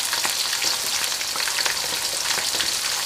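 Potato pieces and spices sizzling steadily in a hot pan, a dense continuous frying hiss with small crackles and pops throughout, close and fairly loud, with no talking.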